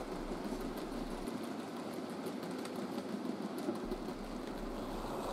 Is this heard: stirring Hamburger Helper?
no